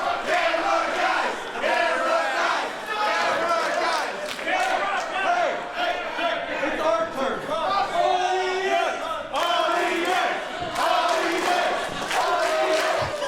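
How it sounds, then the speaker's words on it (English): A wrestling crowd at a four-way match chants loudly in rhythmic, repeated bursts that swell and dip across the arena, with a commentator's voice talking over the noise. "Now the audience chanting for themselves."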